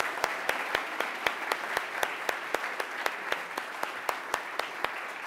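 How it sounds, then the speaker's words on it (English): Chapel audience applause, continuous crowd clapping with a prominent near clapper striking sharp, regular beats about three times a second over the dense background. "Give them a round of applause."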